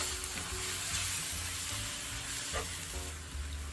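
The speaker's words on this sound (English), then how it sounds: "now I'm going to start bringing in all my mushrooms and mix everything together" Mushrooms stirred into a frying gravy for Salisbury steak, a continuous soft sizzle with scraping and stirring sounds, fairly quiet and without any talk.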